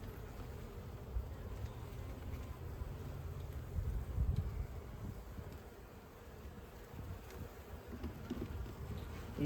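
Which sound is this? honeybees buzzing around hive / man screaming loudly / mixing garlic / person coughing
honeybees buzzing around hive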